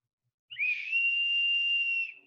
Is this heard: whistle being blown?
yes